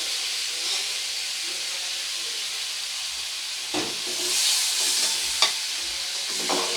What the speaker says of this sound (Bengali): হালকা একটু তেলের মধ্যে নেড়ে চেড়ে নিয়ে এরকম এবারে চিংড়ি মাছটাকে তুলে নেব।